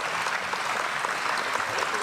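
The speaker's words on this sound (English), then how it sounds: "I hope the applause means that you understood" Audience applause fills a hall at a science-versus-Bible debate between evolutionists and a creationist, a steady dense wash of many hands clapping at moderate volume with no pauses.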